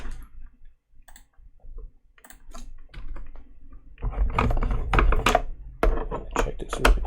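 Keystrokes on a Kinesis Advantage keyboard fitted with Cherry ML switches, sparse light clicks at first that build into faster, louder close-up typing with crisp taps, no voices.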